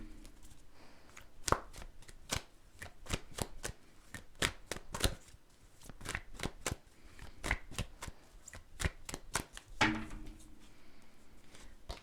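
Tarot cards shuffled and pulled from the deck, a steady run of crisp snapping flicks and riffles, close and fairly quiet, with no talk over them.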